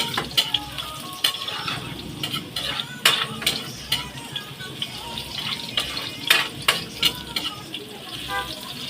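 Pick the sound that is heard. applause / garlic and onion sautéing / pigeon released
garlic and onion sautéing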